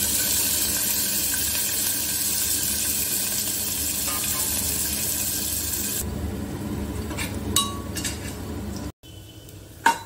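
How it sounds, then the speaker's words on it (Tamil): Onions with green chilli and ginger sauté in a pan with a steady, broad sizzling hiss, then quieten as a spoon clinks and scrapes against the pan. "நல்லா வெங்காயம் வதங்கிருச்சு."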